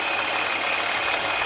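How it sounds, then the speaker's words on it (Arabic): A weak car wash pump motor under repair runs steadily at close range, giving a constant loud mechanical hum with a whining tone throughout a short stretch and no talking. "الموتور ضعيف"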